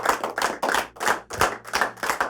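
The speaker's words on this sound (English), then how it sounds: "let's just give the Lord a clap offering" A church congregation claps hands together in a thanksgiving clap offering on Resurrection Sunday, a loud, rhythmic run of bursts that rise and fall in waves, with no talking over it.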